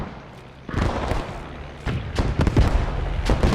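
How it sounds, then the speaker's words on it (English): Light mortar fire in a multiplayer war game: a dull thud near the start, then a cluster of sharp booming impacts and crackling blasts around the middle, with a further burst near the end, all over steady background rumble. "Oh, it's a light mortar."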